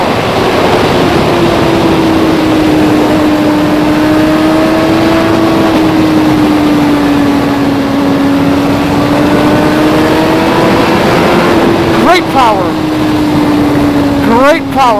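Suzuki GSX-R1000R sport bike engine pulling hard under acceleration in fourth and third gear on an open road, a loud steady drone rising and falling in pitch, with a downshift blip near the end and wind rush throughout.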